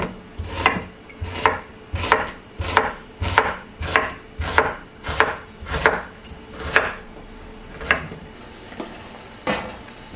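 Knife chopping onion on a cutting board, about fourteen sharp, evenly spaced close chops in a steady rhythm, with no voices.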